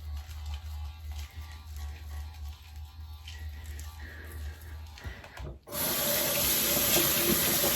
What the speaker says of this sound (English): And then I always rinse my Foreo off after I'm done with it.